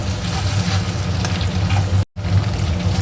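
Crushed garlic cloves and a pinch of nigella seeds sizzle loudly and steadily in hot oil in a pan, with scraping stirs running through, briefly cut by a short silent gap near the end.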